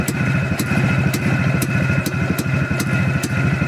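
An engine runs on a test stand in test mode, idling steadily and close, with an even rumbling drone and regular sharp ticking pulses about twice a second, without speech.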